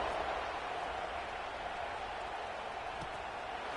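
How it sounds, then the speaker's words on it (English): A stadium crowd in the NCAA 26 college football video game keeps up a steady, dense roar and buzz, loud and unbroken with no clear peaks. "this crowd is buzzing after that last score"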